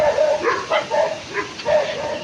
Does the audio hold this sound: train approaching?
no